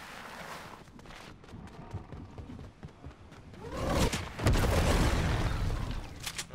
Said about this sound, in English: somebody's shooting grenades